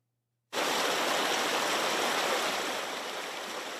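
The Grande Rivière Nord-Ouest in Mauritius rushes in a loud, dense, steady roar that starts abruptly and holds with no voices over it.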